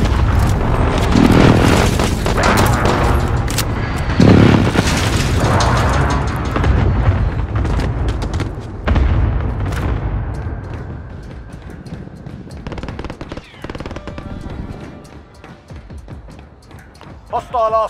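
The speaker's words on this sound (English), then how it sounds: "Enemy precision airstrike." Airstrike explosions in Call of Duty: Modern Warfare form a continuous loud barrage of deep booms and rumbling blasts. Heavy impacts land around the start and middle before gradually thinning out, with game voices heard underneath.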